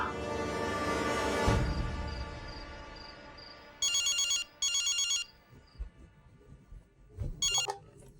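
A telephone rings in a household scene in a Pakistani drama, two bursts of electronic trilling followed by a third shorter one, with quiet room sounds and a fading tone in between.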